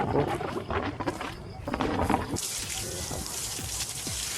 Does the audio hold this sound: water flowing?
yes